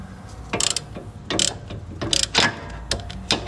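A ratchet with an 18 mm deep well socket works loose a brake caliper bolt on a 2018 Chevy Malibu, giving short bursts of close, rapid clicking separated by brief pauses.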